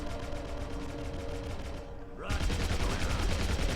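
Submachine gun fired underwater in the game Deep Black, a steady muffled stream of rapid shots with a tonal hum, briefly pausing before a louder, denser burst resumes.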